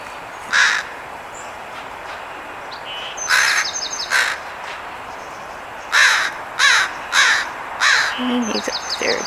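Several crows caw at a dark morph red-tailed hawk perched in a sycamore tree, giving short harsh calls in separated bursts, one or two at first and then a rapid run of four, outdoors over a steady background hiss.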